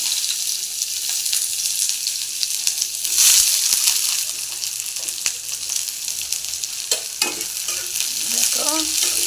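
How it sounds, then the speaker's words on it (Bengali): Onions for a whole masoor dal curry sizzle in hot oil in a wok, a steady close hiss with a few scrapes and clinks of stirring breaking through the frying noise. "এবার আমি পেঁয়াজগুলো দিয়ে দেবো তেলের মধ্যে"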